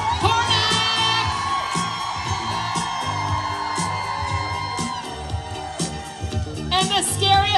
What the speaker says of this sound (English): Keep it going, guys. Don't stop that applause and that screaming.